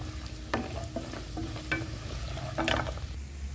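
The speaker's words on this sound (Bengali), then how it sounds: "এবার তেলটা গরম হয়ে গেছে, বড়ি ভেজে নেব।" Steady sizzling of lentil dumplings frying in hot oil, with a few clinks and scrapes of a spoon moving through the pan.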